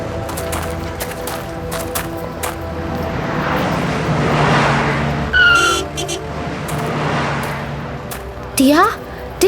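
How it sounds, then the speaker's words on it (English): A car drives loudly past on a road where a pedestrian is crossing, its engine roaring up close as the tires squeal and skid in short, sharp shrieks near the end. "That car almost hit that pedestrian crossing the road."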